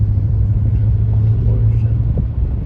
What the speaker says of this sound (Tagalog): Porsche yan guys.